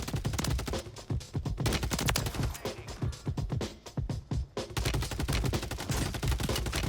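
Rapid gunfire from the SOA Subverter in Warzone, a dense stream of sharp shots rattling almost continuously with brief gaps, loud and close, with no talking.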